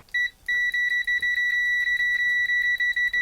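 A Kaiweets HT208D AC/DC clamp multimeter in continuity mode gives a shrill electronic beep, heard first as one brief chirp and then as a long, steady tone that flutters slightly, close and loud.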